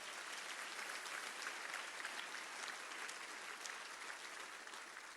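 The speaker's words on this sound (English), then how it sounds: "give a nice round of applause to the staff here at Embassy Suites" A large audience at a State of the City event claps for the staff of the Embassy Suites hotel venue: dense, steady applause lasting throughout with no voices.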